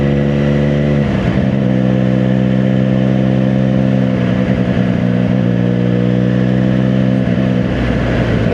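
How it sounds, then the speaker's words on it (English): A Triumph Daytona 660 triple-cylinder motorcycle engine runs steadily and loud, its layered harmonic hum rising in pitch with a rev after about a second, then holding an even drone before settling back near the end. "engine sounds really good. They really have done wonders for the triple engine."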